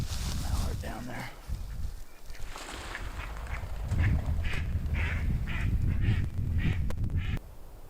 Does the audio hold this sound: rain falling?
no